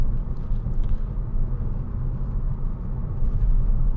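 A 2011 Skoda Octavia 2.0 TDI CR Laurin on a test drive gives a steady, low rumbling cabin drone of engine and road noise, fairly loud and even throughout, with no one talking.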